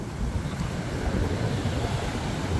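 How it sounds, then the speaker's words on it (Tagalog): Sea waves rise around a small fishing boat out on the water, a continuous rushing wash mixed with buffeting wind against the microphone, steady and fairly loud with no voices. "Abay, nag-umpisa na ang alon."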